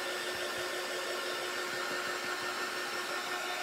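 A hair dryer blowing steadily on copper paint over a clay-covered jar, a constant close whirring hiss with a faint tonal hum, alone and unbroken.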